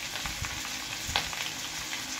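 Garlic and ginger sizzle steadily in a hot pan, a continuous close frying hiss with small crackles and a brief stir-like scrape, no voices over it.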